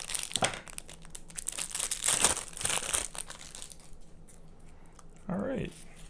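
Tape is pulled and wrapped around a craft flower stem to bulk it up, making bursts of crinkly tearing and rustling at close range. A brief voice-like sound comes near the end.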